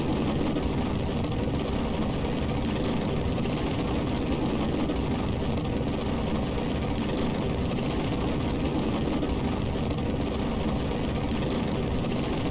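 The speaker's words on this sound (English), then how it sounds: "Throttle back the main engine for now." A rocket main engine roars in the Kerbal Space Program game, a loud, steady, unbroken rumble that holds for the whole stretch, with no talk over it.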